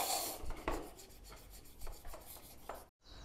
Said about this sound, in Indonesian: Ini kerak-kerak karbonnya kita bersihkan bagian atasnya pakai amplas 1000